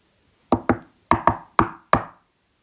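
Knocking on a door in a read-aloud children's story: six sharp wooden raps in pairs and singles, close and clear, with silence around them and no speech.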